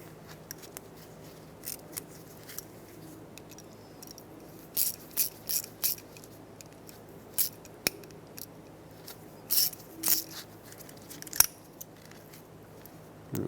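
A ratchet fitted with an inverted Torx socket drives a stud out of a rear exterior door handle on a 2003-2021 Chevy Express 3500, giving quick bursts of close, sharp ratcheting clicks separated by pauses.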